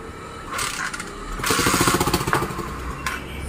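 Old motorcycle engine kick-started and sputtering into life, rough irregular bursts that catch and then settle into a loud, pulsing idle, close by.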